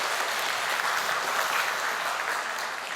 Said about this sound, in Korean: 박수 한번 해주시면 고맙겠습니다.